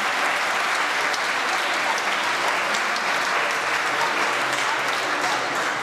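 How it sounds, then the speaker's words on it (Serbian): A large audience at a school award ceremony applauds steadily and loudly for the winning team, a dense, continuous wash of clapping with no break and no talk over it. "Još jedan aplauz za pobedničku ekipu"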